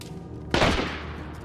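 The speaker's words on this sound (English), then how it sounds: "The unison of these gunshots" Gunfire in the DayZ survival game: a sudden burst of several overlapping shots at about half a second, loud and sharp, then fading into a rumbling tail over steady background noise.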